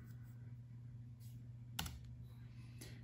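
Keys on a computer keyboard are tapped in a few short, faint clicks over a quiet electrical hum, with one sharper keystroke near the middle.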